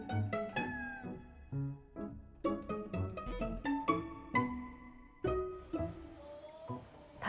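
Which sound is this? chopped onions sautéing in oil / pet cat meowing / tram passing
pet cat meowing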